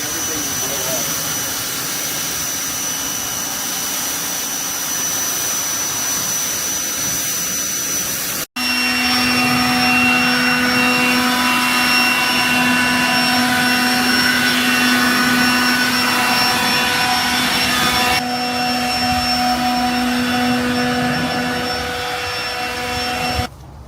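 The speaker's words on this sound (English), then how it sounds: "whenever I start blow drying it, from the ceramic floor, you will see everything will blow off" A blower roars steadily as it dries a car and blasts debris across a ceramic floor, a loud continuous whine with a brief cut partway, then running on close and strong; a voice talks over it.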